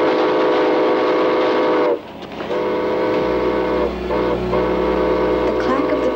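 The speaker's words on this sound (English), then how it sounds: "The clack of the train thundered in my ears" A train rolls loudly along the rails, its rhythmic clacking close and continuous, with sustained horn or whistle tones sounding over it.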